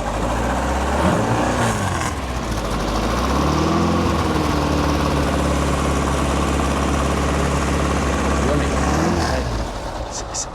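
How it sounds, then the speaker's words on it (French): A Porsche 914 with a 2-litre four-cylinder engine starts and settles into a steady, loud idle with a slight rise in revs, heard close up from start to finish with speech over it. "C'est extraordinaire parce que ça pétarade comme un 6 cylindres ou comme un gros moteur."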